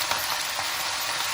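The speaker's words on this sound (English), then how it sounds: "Heat some cooking oil in a wok" Cooking oil heats in a wok for a Chinese stir-fry of pork and Chinese cabbage, giving a steady, close, unbroken sizzle and crackle that holds evenly throughout.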